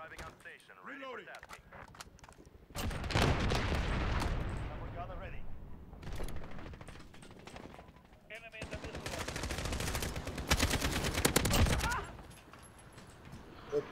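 Rapid automatic gunfire from a Call of Duty: Modern Warfare match comes in two long, loud bursts of sustained firing, with quieter game sounds between them and voices talking over the action.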